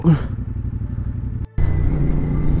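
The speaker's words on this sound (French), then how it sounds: "Les premiers tours de roue se font." A CF Moto 450SR motorcycle pulls away, its mid-pitched engine droning steadily and close, with a brief cut before the engine note resumes and holds.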